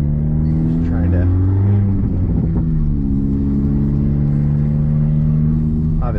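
Engine of a 2022 Honda Civic 1.5T with an aftermarket front-mount intercooler, droning steadily while cruising, heard loud and close from inside the cabin with a constant low rumble and slight rise in pitch partway through.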